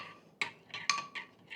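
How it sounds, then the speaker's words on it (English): Sauce for three racks of ribs is stirred and mixed in a bowl, giving four short clinking, scraping strokes of a utensil against the dish, fairly quiet and close, with no talking. "We'll give that a stir here. Give it a mix."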